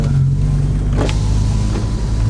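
Engine of a Ford Focus RS 500 Mk2, a 350 hp front-wheel-drive car, roaring loud and steady up close with a brief rise in revs, a low droning rumble throughout as the tyres burn.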